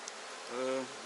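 Honeybees buzz at an opened hive during a colony inspection. A short, faint hum with a clear tonal drone swells briefly near the middle and then fades.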